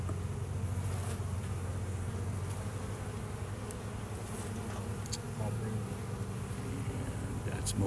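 Dense, steady droning hum of honeybees crowding an open hive during a brood-frame inspection, continuous and close throughout, with faint background sounds and no speech.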